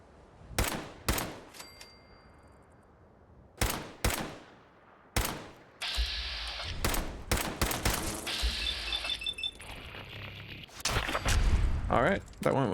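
Pipe weapon gunshots ring out in a survival video game, sharp single reports spaced apart, then a denser cluster of shots and mechanical clicks, with someone talking between them.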